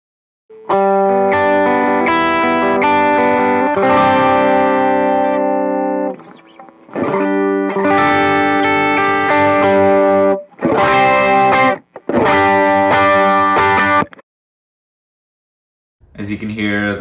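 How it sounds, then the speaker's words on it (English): Electric guitar through a Superbolt overdrive pedal set for mild, transparent gritty gain, loud sustained chords and phrases in several bursts with short breaks, ending in a brief pause before a final stab. "As you can hear, the Superbolt is very transparent. It's not too gained, but yet there's still some grit to it."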